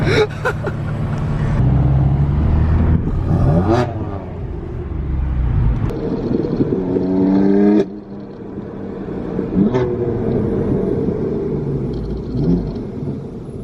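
A Nissan GTR and a BMW M4 roar past in a street race, a loud, sustained engine rumble with rising and falling revs and passing swells, close and continuous throughout.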